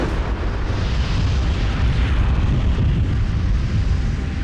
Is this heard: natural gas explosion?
yes